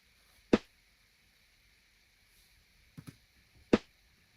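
Layered snare hits built from two stacked snare samples in Logic Pro, one snappy and high pitched, struck alone as sharp isolated cracks: a single hit, a quick double hit a few seconds later, then one more.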